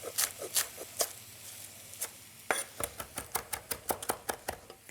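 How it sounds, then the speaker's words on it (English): Knife roughly chopping fresh parsley on a cutting board, starting with a few scattered cuts, then a fast, steady run of close, crisp taps, with no talking. "I'm going to chop in some parsley"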